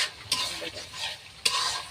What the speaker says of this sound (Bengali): মাছগুলো ঢেলে দেব।